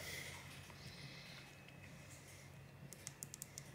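Volume buttons on a Samsung Galaxy S21 Ultra being pressed during a repair inspection, a quick run of small sharp clicks near the end, close and faint over a steady background hum.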